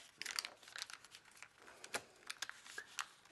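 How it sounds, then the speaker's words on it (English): Paper is folded and squeezed by hand into an origami computer mouse, with soft close crinkles and crisp creasing taps in irregular bursts, quiet and alone. "squeeze, and fold the edge up"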